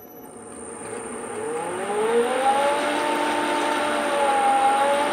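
Lathe motor on a variable frequency drive smoothly ramping its speed up, a rising and then steady electric whine over a broad mechanical hum, with no talking.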